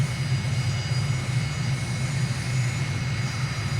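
Aircraft engine in Microsoft Flight Simulator with the throttle pulled back on a high landing approach, a steady droning hum with a low rumble, continuous and even, no voices.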